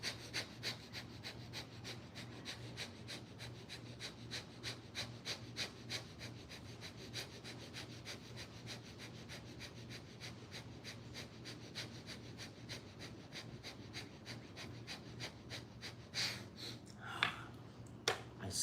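Bhastrika bellows breathing during a group yoga session: rapid, rhythmic forceful breaths repeat steadily at close range for the whole stretch, ending in a few louder, heavier exhalations.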